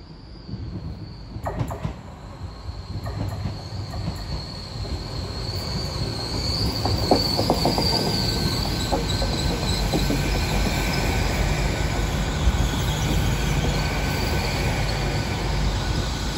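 An HST train in the video game Train Sim World 4 rumbles past loud and close, a steady roar of wheels on track with a high whistling whine and faint squeals running throughout.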